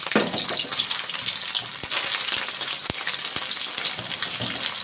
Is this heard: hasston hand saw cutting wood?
no